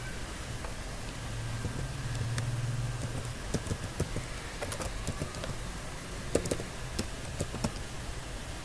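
An email address being typed on a computer keyboard, a run of irregular light key clicks, close but soft over a low steady hum, with no one talking.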